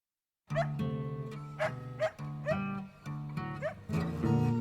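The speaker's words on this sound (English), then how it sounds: "there's a dog singing on it" Dog howling and whimpering in a song, a series of rising, yelping cries repeating at intervals over a bluesy backing track.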